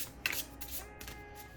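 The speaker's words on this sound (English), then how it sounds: "We're gonna give it a shuffle and draw one and be the oracle for the day." A deck of oracle cards with orange edges is shuffled close by, giving a soft, quick riffling and brushing of card stock over a faint background, with no talking.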